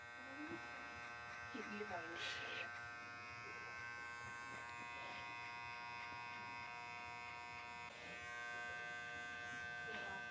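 An electric hair clipper set to zero gap hums with a steady, continuous buzz throughout a low skin fade combover haircut, while voices talk over it.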